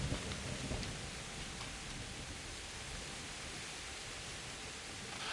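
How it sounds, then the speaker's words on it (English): Steady rain falls in the video game Kingdom Come Deliverance, a dense, even hiss of drops that holds at constant strength throughout with no voices. "Oh, it's raining."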